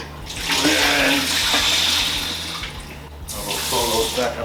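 Tap water runs steadily into a pot of potatoes in a kitchen, a loud, close rushing splash that continues unbroken, shifts slightly in tone, then picks up again after a brief dip.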